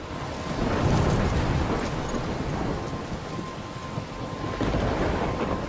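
Thunderstorm with heavy rain in the video game Life is Strange, a dense continuous wash of rainfall with low thunder rumbling underneath, steady and enveloping with no voices.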